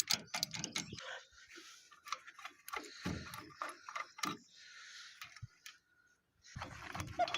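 A very old socket wrench works the axle off a 12-horsepower walking tiller, a close series of sharp ratcheting clicks and metallic knocks in uneven bursts, pausing briefly before resuming.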